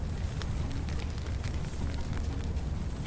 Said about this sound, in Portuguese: Deixa pegar fogo e joga água.